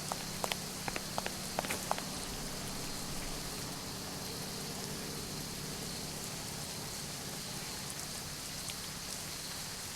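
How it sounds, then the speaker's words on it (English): Rain in the video game 80 Days hisses as a steady, soft patter of falling rain, with a few light taps and drops near the start and no voices. "and it's still raining, thankfully"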